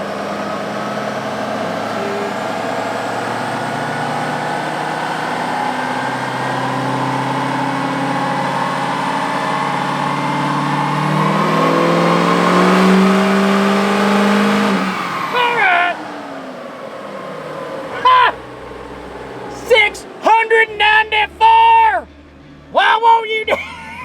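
An L5P Duramax diesel truck with a 67mm VGT turbocharger accelerates hard in fifth gear, its loud engine roar and turbo whine building steadily for about fifteen seconds, then cutting off into quieter cabin noise with people talking excitedly.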